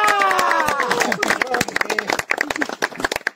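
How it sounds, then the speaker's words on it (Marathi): A small group claps in quick, uneven bursts, mixed in with voices talking. "टाळ्या"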